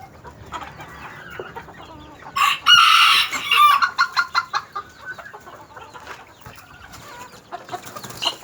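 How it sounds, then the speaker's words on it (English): Chickens on a ranch in Tijuana cluck nearby while a rooster lets out a loud, close crow, followed by a run of rhythmic clucks and softer scattered bird calls. "Here's our new rooster that we got."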